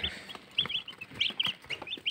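Cobb 500 broiler chicks chirping in a brood, a busy cluster of high, shrill peeps overlapping in quick succession, close and fairly loud with no talking.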